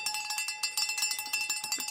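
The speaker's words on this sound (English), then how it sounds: "any chance I could get a PR bell for my 125 hash yesterday? Absolutely." Cowbell rung as a personal-record bell during a running livestream, a rapid series of bright metallic clanks struck repeatedly at a steady fast pace, close and alone.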